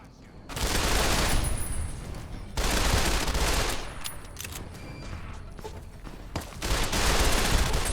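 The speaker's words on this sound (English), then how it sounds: "Oh yeah, plasma weapon." Plasma weapon fire in Fallout: Tale of Two Wastelands rattles in loud, sustained rapid bursts, several long volleys separated by brief pauses, dense and close.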